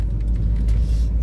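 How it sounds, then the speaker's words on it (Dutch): Car interior road noise while driving, a loud, steady low rumble of engine and tyres with faint hiss above, continuous and close with no talk over it. "We zitten gewoon weer gezellig in de auto."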